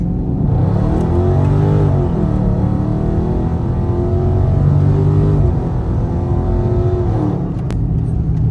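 A car engine with its catalytic converters removed revs hard with a loud, raspy exhaust roar, rising and falling over several seconds, close and continuous.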